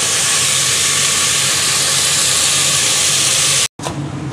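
Pork mince cooking in a pan for Lao larb, a loud, dense, continuous sizzling hiss close by, cut off by a brief dropout near the end before resuming.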